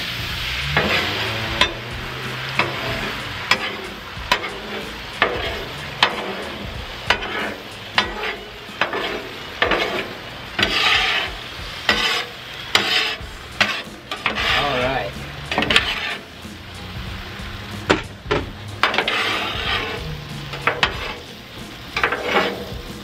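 Eggs fry in butter on a Blackstone griddle under a steady sizzle, while a spatula scrapes and taps the metal surface in frequent, irregular strokes, close by.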